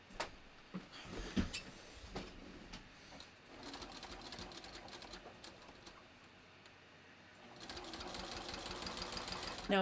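A sewing machine runs steadily, stitching a deeper seam across the bottom of a bathrobe, with the motor dipping briefly mid-way before resuming louder; faint speech comes through at moments.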